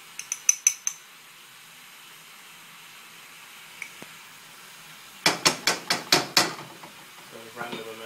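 Several quick clinks of a spoon on a pot come at the start. Later a burst of five or six sharp scraping, clattering strokes follows as sugar is stirred into braised pork belly, ending with a faint scrape.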